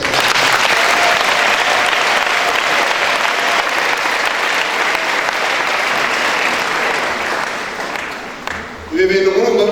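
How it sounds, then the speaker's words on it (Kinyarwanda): A church congregation at an elders' swearing-in ceremony in Cyarwa gives loud, sustained applause that fills the space for about eight seconds, then fades away before a voice begins at the end. "Mwabahaye amashyi"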